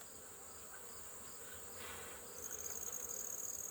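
Honey bees in an open beehive, mostly worker bees around brood comb, give off a steady close buzzing hum that grows a little louder toward the end, with no talk.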